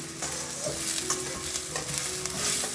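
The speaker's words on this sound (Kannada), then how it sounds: "ಈರುಳ್ಳಿಗೆ ಅದು ಹೋಗೋ ತನಕ ಅಷ್ಟೇ ಹುರ್ಕೋಬೇಕು" Onions fry in a pan with a constant close sizzle, and stirring scrapes run through it. No voices are heard.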